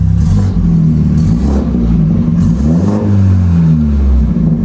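BMW 330i with a B48 engine and a new downpipe exhaust, revving loudly and steadily up close, its deep exhaust note rising and falling through several revs with no talking.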